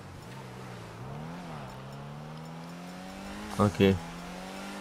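Ocelot Ardent sports car engine droning steadily in GTA 5, pitch rising and dipping as it accelerates, with a brief voice cutting in near the end.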